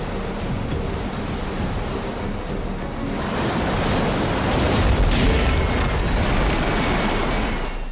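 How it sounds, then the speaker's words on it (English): A giant ocean wave slams into a boat grounded on a reef, its broad roar of surf and water swelling loudly after a few seconds and staying heavy and continuous, with wind buffeting throughout. "This giant wave hits the boat."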